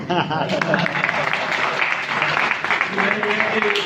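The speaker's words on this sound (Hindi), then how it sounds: "एक तो तालियां आप अपने लिए बजा लें तो ज्यादा अच्छा लगेगा" Clapping from the audience at a mushaira poetry gathering at an institute in Multan, a dense steady patter of many hands mixed with voices, continuing at moderate loudness throughout.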